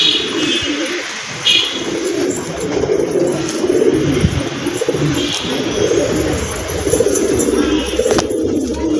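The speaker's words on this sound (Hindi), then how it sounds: "ये है वो जंगली कबूतर जो कि आके उतरा है अभी खुद से।" A wild pigeon cooing close by outdoors, soft repeated low coos with a few chirps from other birds over a faint rustling background.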